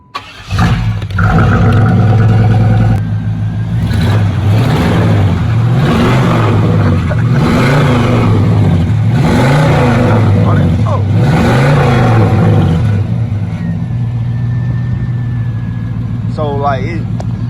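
A 1995 Chevy Caprice 9C1 fitted with a 1995 Impala SS engine runs loud and close, its revs climbing and falling in repeated waves before settling to a steady idle, with people talking over it.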